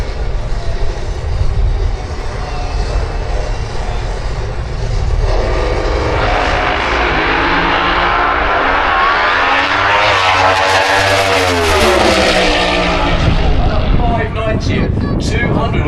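Drag racing cars, including a red Camaro, launch in the final round of a drag race with a loud, sustained engine roar that rises and sweeps in pitch, heard close over commentary.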